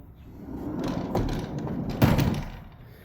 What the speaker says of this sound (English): This is sliding barn door, which closes the bathroom area.